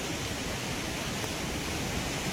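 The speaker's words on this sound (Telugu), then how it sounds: "water flow కనిపిస్తుందిగా" Water flows steadily at the Gundlakamma reservoir, a constant loud rushing roar like a waterfall, with no breaks or other sounds.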